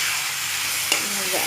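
Food with salt frying in a pan, a steady broad sizzle close up with a brief scrape or clink of stirring near the end.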